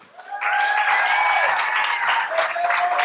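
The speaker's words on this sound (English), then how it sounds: "please give a very warm round of applause for Jared" A large theater audience applauds a comedian loudly and continuously, a dense wash of clapping that swells and holds for a few seconds.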